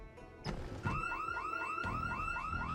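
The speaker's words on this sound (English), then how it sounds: "I tried to open the window to the house and set off yet another alarm" A house alarm in Project Zomboid, set off by opening a window, begins with a thud and then wails in a rapid repeating electronic warble, steady and loud.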